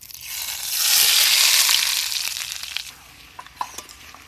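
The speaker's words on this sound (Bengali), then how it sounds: "ভেজে নিয়েছি লঙ্কাটা, ঘিয়ে ওটার মধ্যে দিয়ে দেবো" Fried chillies tipped into hot ghee for Kashmiri mutton rogan josh, a sudden loud sizzling rush that swells, then fades into crackling and a few sharp pops, heard close with no talk.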